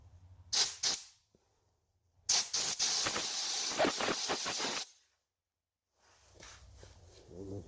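A Harbor Freight portable sand blaster gun sprays baking soda in two short hissing bursts and then one long, steady, loud blast of about two and a half seconds, followed by quiet and faint handling noise.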